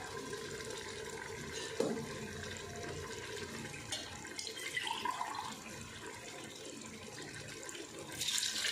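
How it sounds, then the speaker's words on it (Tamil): Water runs steadily onto cumin samba rice in a pot for chicken biryani, a faint, continuous rushing splash with a few brief louder sloshes and no talk over it. "இதில் வந்து நாலரை டம்ளர் தண்ணி ஊற்ற போகிறேன்"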